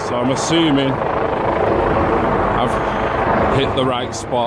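Helicopters fly over Green Park in London during a street march, a steady, loud rotor and engine roar that fills the background while someone talks over it throughout.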